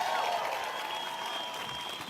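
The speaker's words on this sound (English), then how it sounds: "Let's give them a round of applause" Applause from an audience at a film event at the White House, a steady broad patter of many hands lasting the whole moment, moderately distant and fairly even in loudness.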